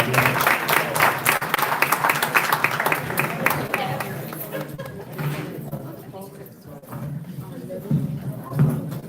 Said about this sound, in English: Give a round of applause for the candidates